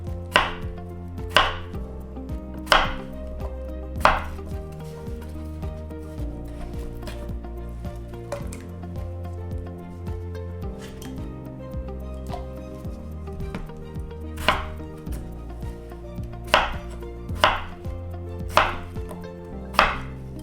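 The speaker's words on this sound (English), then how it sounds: "I'm not going to cut them too small. I'm not going to cut them too thick." A knife chopping chicken feet on a board for Jamaican chicken foot soup, sharp, loud single chops spaced a second or two apart, sometimes in quick pairs, over quiet room tone.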